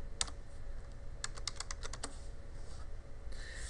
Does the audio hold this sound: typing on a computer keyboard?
yes